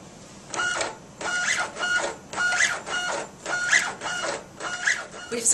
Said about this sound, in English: we're sending data down to print 20 labels consecutively